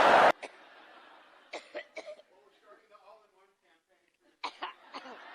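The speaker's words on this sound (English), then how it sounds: "The coughing fits, which is yet another side effect of strokes." A harsh coughing fit: a loud opening burst, then several sharp coughs and throat-clearing sounds spaced over a few seconds, fairly close and alone.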